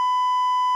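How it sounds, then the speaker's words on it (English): A Rodecaster Pro beep button fires a censor beep, a single loud, steady pure tone lasting under a second and cutting off abruptly. "I have a formal beep button now."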